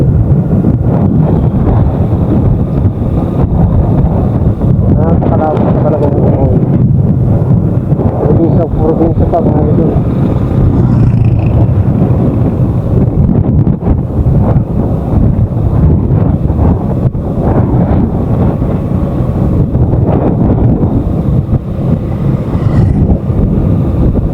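Steady wind buffeting the microphone, a constant rough rumble throughout, with a voice talking underneath at times.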